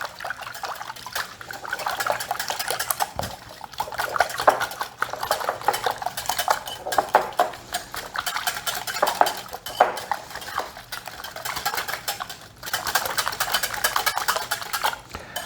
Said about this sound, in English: I'm gonna whisk this all together pretty well.